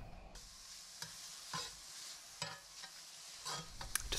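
Bacon frying in a cast iron pan, a steady bright sizzle with a few sharp clicks and scrapes from the pan, close and fairly quiet, with no voices.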